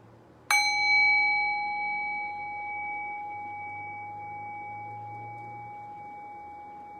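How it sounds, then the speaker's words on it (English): A single meditation bell is struck once after a brief quiet start, giving a clear bright ring with a steady pure tone that slowly fades over several seconds in a calm, silent space. "Now ring the bell one more time. Allow the decay of the bell to guide your thinking mind into silence."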